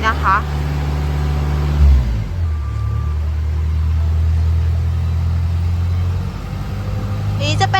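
A 2011 JLG 450AJ articulating boom lift with a four-cylinder diesel engine idles with a loud, steady low rumble, its pitch dipping briefly midway, while someone talks over it.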